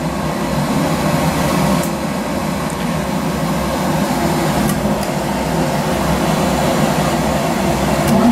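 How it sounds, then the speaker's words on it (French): A domestic fuel-oil burner with a newly replaced fuel pump, its fan and pump running together as a steady, loud mechanical hum and whir, unbroken throughout. "Dès que le ventilateur tourne, ça remplit la pompe fuel."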